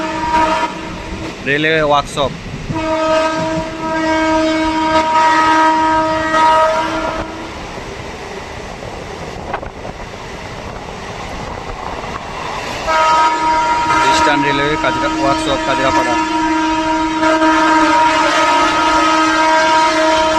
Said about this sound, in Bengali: এখনো আমাদের ট্রেন ক্রস করছে কাজরাপাড়া কারখানা গেট, 2 নম্বর কারখানা গেট।